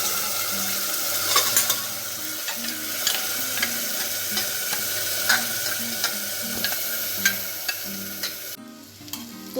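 Masala gravy added to hot oil in a pan for shaam savera, a continuous close sizzle with repeated scraping and stirring clicks of a utensil, easing off near the end.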